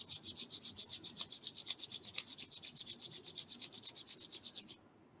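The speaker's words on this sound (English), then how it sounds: "Let us all rub our palms together." Two palms rubbed briskly together during a stress-relief yoga exercise, a steady run of about thirty quick, even strokes, close and clear, stopping abruptly near the end.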